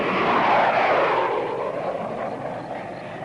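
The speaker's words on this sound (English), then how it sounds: "Hey, that's a plane taking off." An airplane taking off from an old airfield, a broad roaring engine drone that swells loudly then slowly fades as it moves away, heard alone without voices.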